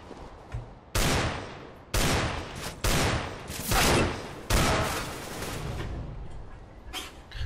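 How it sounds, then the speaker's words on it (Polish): Bursts of gunfire in the shooter game CS GO, several loud sharp shots and short volleys spaced about a second apart, each decaying quickly, with a faint later shot near the end. "Zadałem mu dużo obrażeń tym jednym strzałem"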